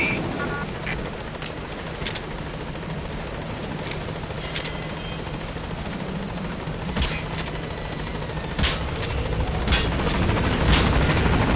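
A helicopter approaches a landing zone in Metal Gear Solid V: The Phantom Pain. Its rotor makes a steady, dense roar that grows slightly louder, with a few sharp incidental noises mixed in.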